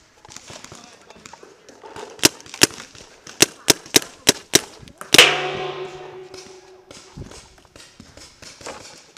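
Paintball guns fire during an outdoor game after rain: a string of about eight sharp, loud single pops, then a rattling burst, with voices and movement around the shots.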